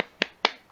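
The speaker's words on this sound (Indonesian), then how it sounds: "mari kita tepuk semangat dulu ya" Children at a classroom lesson doing a rhythmic 'tepuk semangat' spirit clap: two sharp, bright claps about a quarter second apart, close and clear with quiet between them.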